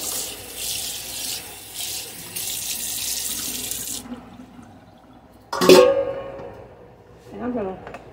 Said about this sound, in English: I'm going to rinse out my pan.